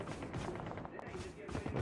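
Video game gunfire sounds as rapid bursts of rattling shots at moderate distance, dense and continuous under background noise.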